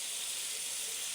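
Vegetables for noodles fry together in a pan, giving a steady, dense hiss that holds at an even, moderate level without pause.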